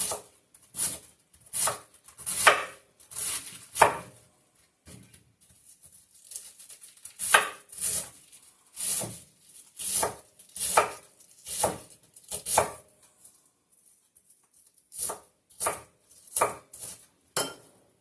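Cabbage being chopped with a knife on a cutting board, a run of sharp, close, irregular knocks in bursts with brief pauses between them.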